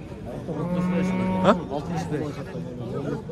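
Dairy cows at a busy livestock market, with one drawn-out moo rising to a sharp end amid the murmur of people talking and a crowded outdoor din.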